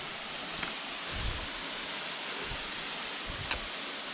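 Steady broadband rush of a modest waterfall in a dry-season flow, heard from nearby as an even wash of water noise with a few faint thumps and clicks, no talking.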